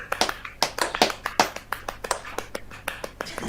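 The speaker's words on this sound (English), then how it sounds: "Let's give Dovetail a round of applause." A lively round of applause with sharp, uneven claps and bursts spread across a few seconds, fairly close and dry, with a steady low hum underneath.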